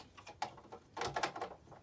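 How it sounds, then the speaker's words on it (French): A wooden drawer on an antique Japanese chest from Tsuruoka slides shut with its latch, giving a single close knock followed by a short cluster of rattling wooden thumps, with no voices. "et le tiroir est fermé."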